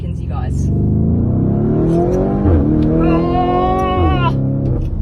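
A supercar that reaches 100 in 3.5 seconds accelerates hard from inside the cabin, its loud engine roar climbing in pitch, dropping briefly at two gear changes and climbing again.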